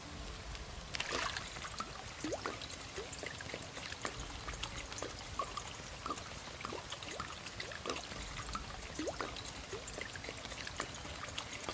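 Water from a rain barrel in Project Zomboid trickles and pours steadily, fairly faint, with small drips and splashes scattered over the flow.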